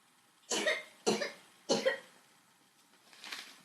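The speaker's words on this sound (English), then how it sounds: "Don't cough on me." Three sharp, harsh coughs come in quick succession at close range, followed by a softer fourth one, with quiet between them.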